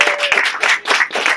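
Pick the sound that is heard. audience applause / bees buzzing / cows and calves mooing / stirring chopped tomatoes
audience applause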